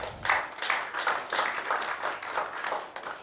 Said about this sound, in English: Let's have a huge round of applause for Mr. Suresh Bhatia.